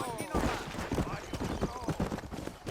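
Horse hooves clip-clopping at a quick gait while riding in Red Dead Redemption, rhythmic close hoofbeats with voices talking over them.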